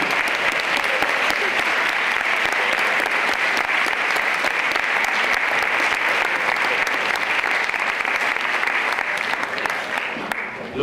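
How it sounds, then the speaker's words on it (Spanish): Loud, dense applause from an audience cheering secondary school category award winners, a thick continuous roar of hands that holds steady for about ten seconds before easing slightly at the end. "Fuerte aplauso, chavales"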